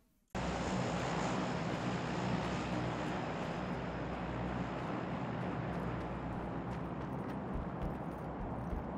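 Airplane engine in the video game PUBG starts abruptly and holds as a loud, steady roaring drone with wind-like rush, no voices over it.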